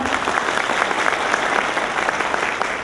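A seated audience at a Dhamma talk in a hotel applauds for a doctor, steady and continuous clapping with no pauses.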